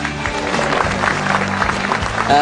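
Studio audience applauding at a televised stand-up comedy show: a continuous wash of clapping from a crowd, steady and loud, over a sustained tonal backing that swells near the end.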